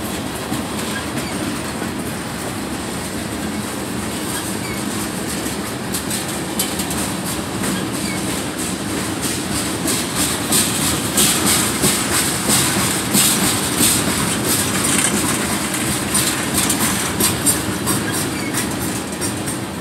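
A Union Pacific freight train rolls through Alpine station, loud, steady rumbling with rhythmic clickety-clack of wheels over rail joints and faint squeal as the cars pass close by.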